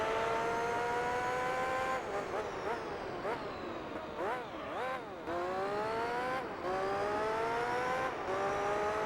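A race car in Gran Turismo 3 screams at high speed, its engine whine climbing and dropping sharply through repeated gear shifts and corners, loud and continuous with brief tyre noise.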